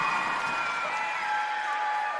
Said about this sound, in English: you can hear the gym just there erupt, not only with their team,